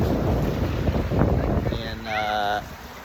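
Wind buffets the microphone in a steady low rumble at Bartlett Lake near Phoenix, with a brief tonal whine near the end.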